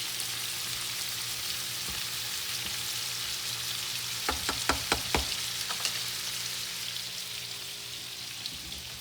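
Mushrooms frying in butter in a pan, a steady hissing sizzle close by, with a short run of sharp clinks or taps midway.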